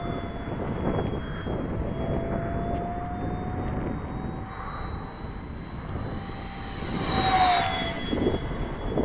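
A Phazor 4-cell radio-controlled model airplane whines overhead with a steady electric motor tone that drifts in pitch, swelling louder and higher as it passes near late on, heard outdoors at a flying club.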